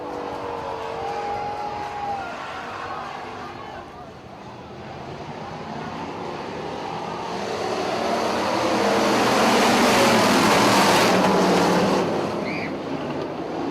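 Hobby stock cars race around a short-track oval, engine roar swelling and fading as the pack passes, loudest near the end, with a race announcer talking over the noise throughout.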